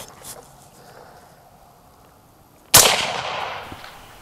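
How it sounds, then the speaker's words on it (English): A single loud, sharp .308 Winchester rifle shot with a Barnes TTSX bullet, fired from an LWRC Reaper with a 16-inch barrel and suppressor, cracking suddenly after a quiet stretch and decaying over about a second. "I'm going to be shooting it out of the LWRC Reaper with the 16 inch barrel"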